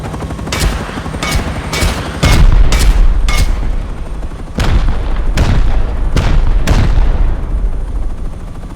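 Rockets fired in the survival game Rust, around nine sharp launch blasts in quick succession, loud and close, some paired closely together, over a constant low rumble with no talking.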